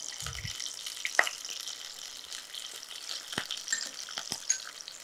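Curry leaves and dried chillies in hot oil in a clay pot give off a faint, steady sizzle, with a few small crackles and pops scattered through it.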